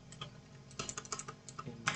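Rapid typing on a computer keyboard while C++ code is entered, with irregular clusters of crisp key clicks in close, quiet surroundings and no voices.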